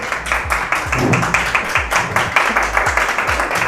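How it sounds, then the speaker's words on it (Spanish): A studio audience in Cuenca applauds the Morocho siblings with long, rhythmic clapping, regular beats with low thumps underneath, sustained at an even, fairly loud level throughout. "el aplauso más largo de la vida"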